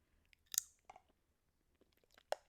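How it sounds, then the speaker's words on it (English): Close, quiet chewing of a turkey burger, with a few distinct wet bites and crunchy mouth sounds scattered over a couple of seconds and near silence between them. "A soundbite of me eating a turkey burger"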